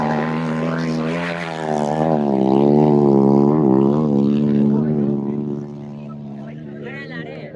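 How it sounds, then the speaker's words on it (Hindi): A loud racing motorcycle engine at a desert fair (mela) drones close by with a strong, wavering harmonic whine that eases off toward the end, while people talk over it. "मोटरसाइकिल जो आवाज़ घणो आहे"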